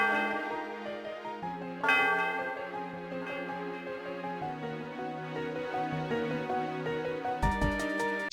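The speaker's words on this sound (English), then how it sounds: "We reach the top and ring the bell because Skyla asked us to." The bell atop Celestial Tower rings in a Pokémon video game, a sustained resonant chime with layered ringing overtones. It sustains over the background music, with a fresh strike near the start and a louder burst at the end.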